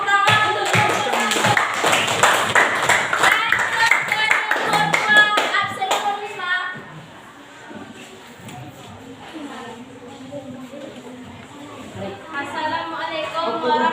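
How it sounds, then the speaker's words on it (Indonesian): A group bursts into brisk, dense applause during a classroom lesson on fasting, the clapping loud and steady for about six seconds before fading out as a voice begins speaking. "Tepuk tangan untuk"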